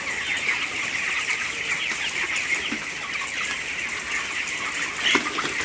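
Chickens in an open poultry house fitted with nipple drinkers fill the space with constant overlapping clucks and squawks, a dense, loud flock chorus without talk.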